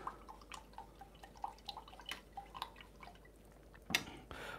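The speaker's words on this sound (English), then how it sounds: "I'm going to wash that brush." An acrylic paintbrush being washed in water, with soft, sparse drips and small splashes close by, ending in a brief louder swish.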